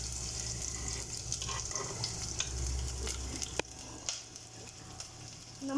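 Ginger, garlic and green chilli sizzle in hot oil as a spoon stirs and scrapes the pan, with a steady close fizz and occasional clinks and knocks, no voices.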